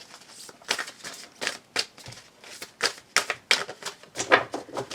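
A deck of tarot cards being shuffled and cut by hand, a run of quick, crisp riffling snaps and flicks in close succession, fairly near and alone without talk.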